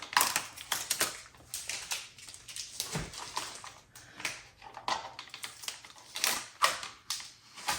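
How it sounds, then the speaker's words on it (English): Duct tape peeled off a large resin splash sculpture, giving a close series of dry crackling rips and tearing bursts in uneven pulls, loud against quiet room tone. "Take the duct tape off that I had to put on to keep its shape."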